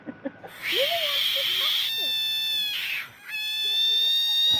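A frog lets out long, shrill, high-pitched screams in two sustained bursts, loud and close, sounding like a wailing alarm, with a brief pause for breath between them.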